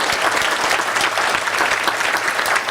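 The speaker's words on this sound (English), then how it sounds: "thank you, it deserves applause." An audience at a national gala dinner applauds in a loud, sustained burst of many hands clapping, with no voices heard.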